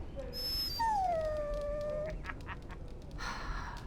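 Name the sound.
dog whining, from the video game Dragon Age: Origins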